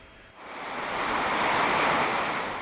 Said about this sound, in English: the Thames is racing to shift all that water